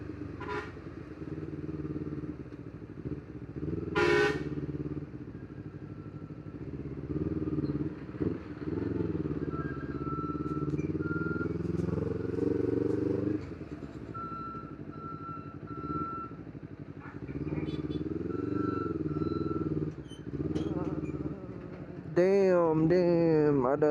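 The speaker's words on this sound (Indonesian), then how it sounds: "Damn, ada truk." A truck on a road is passed by a Honda CBR 250RR motorcycle, with a steady engine and road rumble, repeated reversing-style beeps, a brief horn toot, and a rising engine rev near the end, all under occasional talk.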